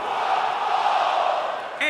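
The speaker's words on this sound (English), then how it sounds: "Listen to this crowd, guys. They're fired up for this one." Arena crowd in WWE 2K20 roaring steadily for a tornado tag match, a loud sustained wash of cheering throughout the short stretch.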